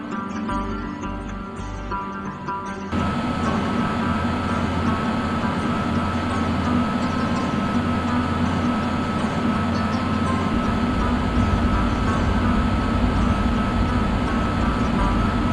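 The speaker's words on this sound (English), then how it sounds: "For this trip, we have arranged for a special Vistadome tourist car for your comfort." An Indian Railways train with a Vistadome tourist car, heard riding from on board: a steady, loud broadband rumble and rattle of the moving train that grows fuller and louder after the first few seconds and then continues unbroken, with no talking.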